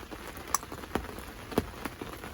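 Rain falls during a winter day of carp fishing, a soft steady patter with a few sharper drops striking nearby surfaces, fairly quiet and without talk.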